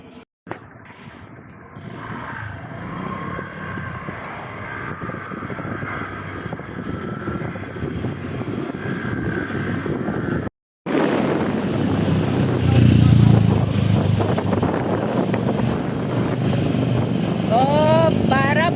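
Motorcycle with a dog riding along as passenger, the engine droning steadily close up, then cutting out briefly before rising louder into a rushing ride with wind noise, and people talk throughout.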